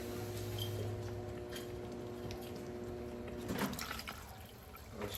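Water pours into a cooking pot while pork chops and potatoes simmer, a soft steady liquid wash with a brief louder splash midway, under low kitchen hum.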